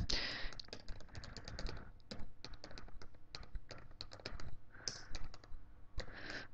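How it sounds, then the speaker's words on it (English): Keys clatter on a computer keyboard while someone types a web address into a blog setup page, fast bursts of close taps broken by short pauses, with a brief spoken word in the middle. "Let me type that one in there."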